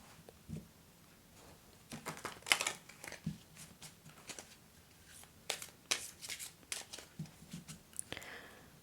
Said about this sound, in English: I will be shuffling live.